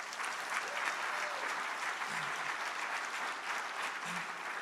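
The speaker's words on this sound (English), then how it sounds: "Give our council members a round of applause." Steady, even applause from an audience at a Philadelphia airport program, honoring city council members; a continuous wash of clapping at moderate distance with no voices standing out.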